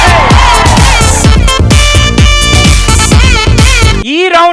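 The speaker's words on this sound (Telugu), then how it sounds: "give him a big round of applause" A Telugu TV game-show studio audience cheers and whoops loudly, a dense continuous crowd roar layered over rhythmic music beats that drops off abruptly near the end.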